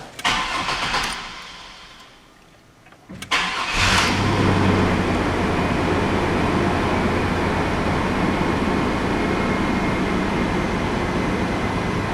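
A 2001 Chevrolet S10 pickup cranks briefly after a fuel tank install, dips quiet, then fires and settles into a loud, steady idle heard close up for several seconds.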